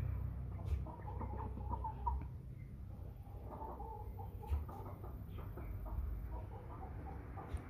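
American Bresse chickens cluck and murmur in a flock, soft repeated clucks scattered over a low background rumble with a few sharper calls.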